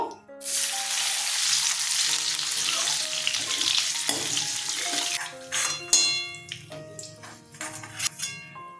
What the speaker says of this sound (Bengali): এবার কিশমিশটা ভেজে নেবো